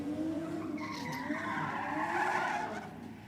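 A small Honda Civic races down a drag strip, a distant engine drone with a tire squeal that rises and falls over a few seconds, heard faint and far off.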